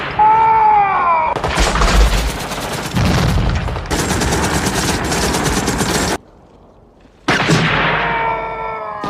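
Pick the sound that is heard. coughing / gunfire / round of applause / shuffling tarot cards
gunfire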